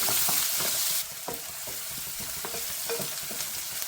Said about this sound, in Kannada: ಹಸಿರು ಮೆಣಸು ಸ್ವಲ್ಪ ಫ್ರೈ ಆಗೋಕ್ಕೂ 1 ಹೆಚ್ಚಿಟ್ಕೊಂಡಂಥ ಈರುಳ್ಳಿನ ಹಾಕಿದ್ದೀನಿ